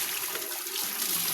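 Water pours steadily from a tap during hand laundry, a continuous close rushing splash with no pauses.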